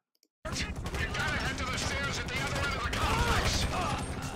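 Rapid, sustained gunfire in a GTA 5 shootout, dense overlapping bursts of automatic and single shots close and loud throughout, with indistinct voices mixed in.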